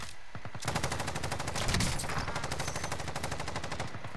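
Rapid automatic gunfire from Call of Duty: Modern Warfare rattles in a fast, continuous burst of sharp cracks, loud and close, running nearly the whole few seconds.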